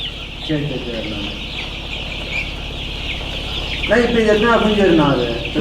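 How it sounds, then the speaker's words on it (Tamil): Several month-old chicks cluck and squawk nearby, with a burst of louder clucking toward the end over a steady background hum. "இதெல்லாம் பெரோட கோழிங்கண்ணா"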